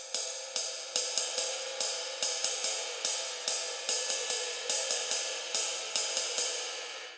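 A jazz ride cymbal is played at a fast tempo in steady quarter notes with a throw-and-catch stroke, its bright sustained wash pulsing through repeated close, crisp pings and no voices.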